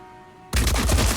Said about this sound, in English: so we should shoot at that one, I think